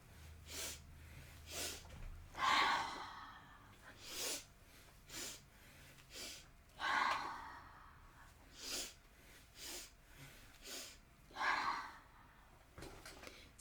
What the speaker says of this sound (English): Sniff, sniff, sniff, ha, with an open breath, open mouth, coming forward to relax the nervous system.